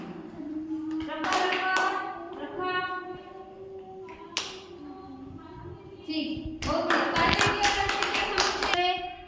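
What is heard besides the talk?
children clapping hands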